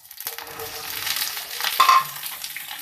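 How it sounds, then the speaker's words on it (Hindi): Cauliflower florets dropped into hot cooking oil, a quick burst of sizzling and crackling with stirring scrapes, close and brief, no voices. "ऑयल गरम किया और इसके अंदर हमने डाला है फूल गोभी को और इसको हमने थोड़ा फ्राई करना है।"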